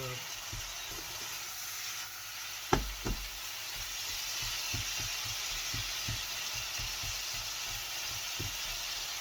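Tomatoes frying in a pan for Turkish menemen, a continuous loud sizzle and hiss with scattered soft knocks of a utensil against the pan throughout, one sharper clack partway in.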